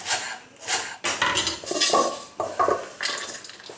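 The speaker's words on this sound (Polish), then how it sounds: "Por przekroję na pół i na cieniutkie pół połówki go pociekam." A knife cuts a halved leek into thin half-rings on a board. Close, repeated chopping strikes and clatters come in an uneven rhythm, with no voices.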